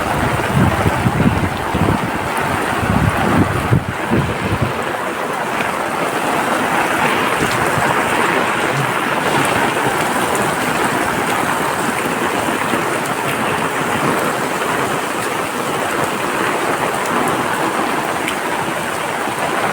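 Heavy rain drums steadily on an umbrella close overhead, a dense continuous hiss with some rough rumbling at the start.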